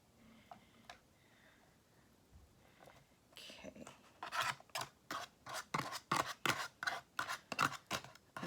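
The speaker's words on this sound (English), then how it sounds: "I'm just scraping out" A fork scrapes pork out of a bowl of egg drop tan tan men ramen in a string of quick, close scratching strokes that grow louder and more regular in the second half, after quieter rustling.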